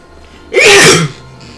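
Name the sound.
sneeze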